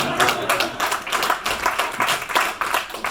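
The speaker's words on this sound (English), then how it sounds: "You clap for that." A neighborhood meeting audience claps in celebration of a 45-year marriage, a moderate crowd of hands giving steady, overlapping claps with a loose rhythm, fairly close and continuous with no talking over it.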